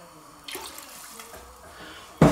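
Tap water pouring into a soup pot while vegetable soup is being made in a kitchen, a soft steady splashing stream over a couple of seconds, ending with a louder clatter, no talk.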